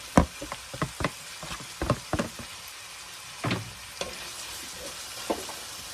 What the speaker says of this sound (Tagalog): Saute natin.